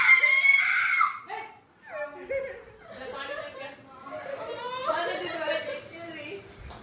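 Someone shouts loudly on request, a sharp high scream at the start followed by excited vocal bursts, chatter and giggly laughter nearby.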